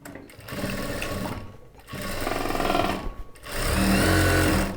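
Sewing machine stitching a chudidar top, loud close whirring in three bursts with brief pauses between, including reverse stitching.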